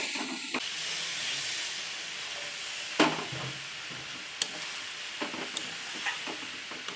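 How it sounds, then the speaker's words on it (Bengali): Figs and potatoes with spices frying in a pan give a steady hissing sizzle throughout, with a few sharp clinks and scrapes of stirring, close and fairly quiet. "একটু মশলা দিয়ে ডুমুরটার আলুটা একটু কষে নেব মশলায়"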